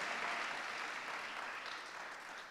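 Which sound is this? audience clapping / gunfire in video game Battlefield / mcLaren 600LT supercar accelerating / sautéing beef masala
audience clapping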